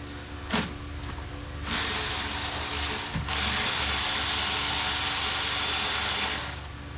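A ratchet loosens a 12 mm bracket bolt on a Kia Sorento during a clutch replacement: a few short clicks first, then several seconds of steady, close, rapid ratcheting before it stops.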